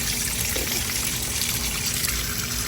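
Coolant draining out of a Ford Crown Victoria onto grass, a continuous, even rush of running liquid heard close up with no voices.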